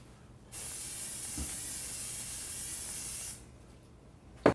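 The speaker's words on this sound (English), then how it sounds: "I'm just going to take some cooking spray and coat the bottom of our pot first." Cooking spray hissing from a can onto the bottom of a pot, one continuous close spray lasting about three seconds, followed by a quiet pause and a short sharp knock at the end.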